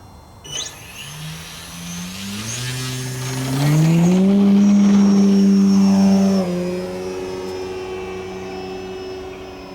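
A radio-controlled model airplane's motor spools up loud and close, its pitch climbing, holding high, then easing to a lower steady drone, with no talking.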